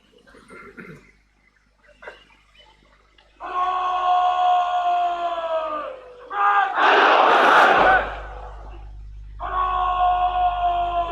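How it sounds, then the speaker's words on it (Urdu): An honor guard at a Pakistani military change-of-command ceremony shouts a national slogan in unison, with several loud, sustained group chants. A roaring crowd surge joins in near the end. "اب اعزازی گارڈ قومی نعرہ لگائے گی۔"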